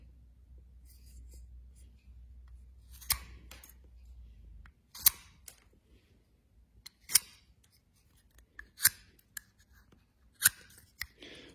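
Blade carving pencil lead up close, a handful of sharp scraping strokes spaced a second or two apart after a quiet start, faint and dry.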